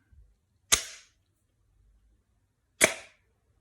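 Two sharp, snappy shots from an airsoft gun fitted with an Edgi cylinder and piston during a compression test, spaced about two seconds apart, each a crisp crack with a quick decay over near silence.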